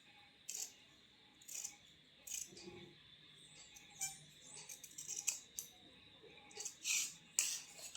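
Scissors cutting suit fabric along marked back-panel lines, quiet intermittent snips and rustles spaced irregularly, close and faint with no voice.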